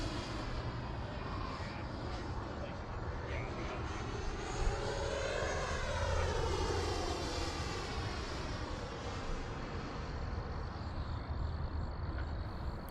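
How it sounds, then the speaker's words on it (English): An FMS Avanti 90mm EDF sport jet model plane flies past with a steady, loud ducted-fan whine that rises and falls in pitch as it sweeps by, with no talk over it. "One comment a lot of folks are making is the sound of this plane."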